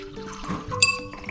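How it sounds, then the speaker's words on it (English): Water poured into a row of cups for a colour-mixing science experiment, a short liquid splash with a bright clink near the middle, heard close and fairly quiet. "First you fill every other cup with water."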